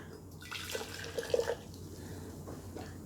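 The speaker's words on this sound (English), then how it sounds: "I'm gonna pour this back and forth just a couple times to cool it" Hot white tea poured from one vessel into another, a soft, faint splashing trickle rising in the middle of a short quiet stretch against a low background hum.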